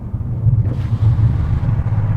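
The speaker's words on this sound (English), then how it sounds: "The exhaust backfire is just so loud inside here." A deep, loud engine rumble heard from inside a Bentley Continental SuperSports, with low throbbing bursts and crackles from exhaust backfires, no voices.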